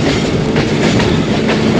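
The Ravi Express passenger train running on the Shekhupura to Shorkot branch line, a loud, steady rattle and clickety-clack of wheels heard close from on board.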